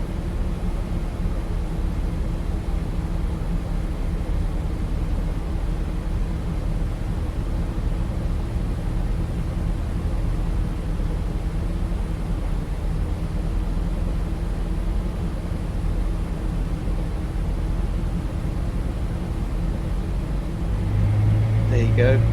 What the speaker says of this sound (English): That's that vibration and the noise as the fuel gets thrown into the engine.